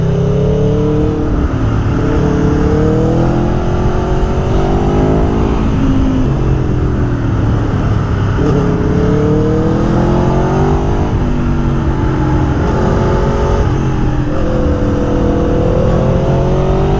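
Motorcycle exhaust of a BMW M1000 R or Aprilia Tuono V4 Factory roars steadily on a test ride, loud and close, with the engine pitch rising and falling through gear changes and throttle swells.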